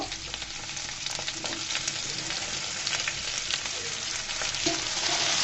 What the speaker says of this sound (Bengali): বেগুনগুলোকে সুন্দর করে আমি তেলের মধ্যে ভেজে নিচ্ছি।